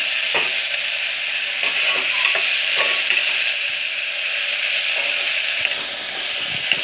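Onion and tomato frying in oil for dal khichdi, a steady close sizzle with occasional soft clicks of a spoon stirring the pan, continuous and fairly loud with no talking.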